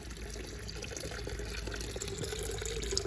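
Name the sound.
pond fountain spraying water out the side and top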